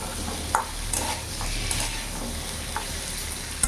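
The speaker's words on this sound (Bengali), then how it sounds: "দিয়ে 2 থেকে 3 মিনিট ভালো করে মশলার সাথে কচুর সাথে কষাবো।" Taro (kochu) stir-fried with spices in a hot pan for a gaanthi kochu dum, giving a steady close sizzle broken by a few sharp spatula clinks against the metal.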